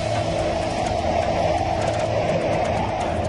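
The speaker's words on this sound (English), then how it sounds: "You can start to hear the roar outside." Hurricane Andrew's winds roar outside a house as a steady, loud, unbroken rush with no pauses or voices.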